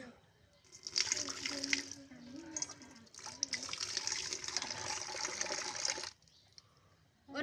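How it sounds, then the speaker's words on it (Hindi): Water poured out in a long gushing stream, loud and splashing for several seconds, breaking off briefly before resuming and then stopping abruptly, with a voice heard speaking during the sound. "तीसरे ने नदी का सारा पानी उंडेल दिया।"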